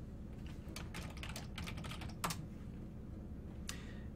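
Clusters of quick keystrokes on a computer keyboard while entering a script name, close and fairly soft, in bursts with short pauses and one sharper clack near the middle.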